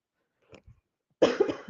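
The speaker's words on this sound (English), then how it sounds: "Excuse me if you heard that cough." A soft throat sound is followed by a burst of harsh coughing, two or three quick hacks up close in an otherwise quiet room.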